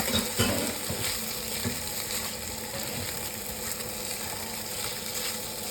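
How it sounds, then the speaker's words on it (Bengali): Sabudana fried rice stirred in a pan over a medium gas flame, a steady broad sizzle with scraping and clinking utensil strokes scattered throughout, close and continuous, no voices. "এবার এটা একটু নেড়ে নিচ্ছি, ভালো করে মিক্স করে নিচ্ছি।"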